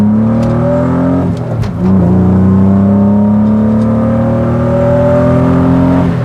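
A BMW E36 accelerates hard at full throttle, engine droning loud and close as the revs climb steadily, with a brief dip at a gear change before pulling on.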